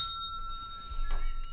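A single bell rings once as a drinking-game cue, a bright ding that fades away over a second. A quieter rustle follows it.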